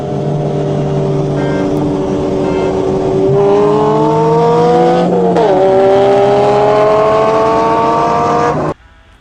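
A Dodge Viper's big-displacement V10, in a track-focused, street-legal manual-transmission race car, drones loudly and close, its pitch climbing in stages as it revs before cutting off abruptly just before the end, with no talking.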